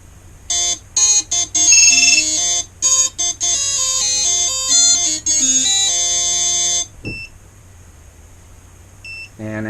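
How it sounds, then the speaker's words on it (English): A quadcopter's GPS tracker alarm buzzer gives a loud electronic beeping sequence of short and longer tones in varying pitches, then goes quiet except for a couple of faint chirps. "And now we got to count to 3 to get the buzzer off."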